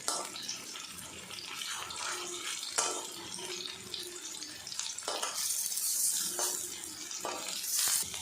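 Lentil and potato dhoka fritters frying in a shallow layer of oil, a continuous hissing bubble that swells toward the end with a few clinks of a utensil, no voices.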